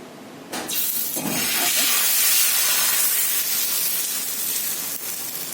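Barnyard millet dosa batter hits a hot griddle and sizzles loudly, a broad close hiss that swells after a couple of initial spatters and holds steady, with no speech.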